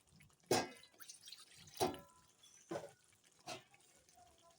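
A little water goes into a pan of fish curry in four separate small splashes, each a brief, drip-like plop spaced about a second apart, faint against a quiet background.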